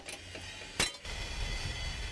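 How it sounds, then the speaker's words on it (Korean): An iron cauldron is struck once with a light hammer, giving a sharp, bright clink near the middle with a short ringing tail, set against quiet background noise. "고음의 가마솥은 가벼운 망치질로도 쉽게 깨지고 만다"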